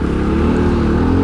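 A 2019 Fantic Motor Enduro 250 four-stroke motorcycle rides through city streets, its engine a steady close drone as it holds speed, with no talk.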